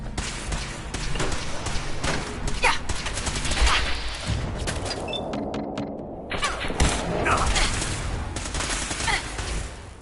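Sustained battlefield gunfire in the video game Fallout 4, with overlapping automatic bursts and heavy shots filling the whole stretch, loud and continuous, easing briefly midway before picking up again.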